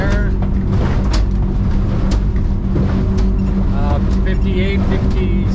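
A 2007 Weldcraft Ocean King motorboat runs at full throttle, its engine a loud, steady roar with rushing water and wind; someone talks over it.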